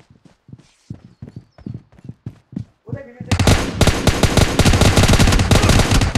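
Gunfire in the video game PUBG: a run of separate sharp shots, then a loud, dense burst of rapid automatic fire that keeps going to the end.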